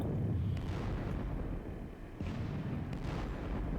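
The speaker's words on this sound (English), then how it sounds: "The Russian guns are chipping away at me." Russian artillery fire in a Battle of Friedland strategy game: a dense rumbling roar of cannon booms that dips briefly, then a fresh burst of blasts, loud and continuous with no talk.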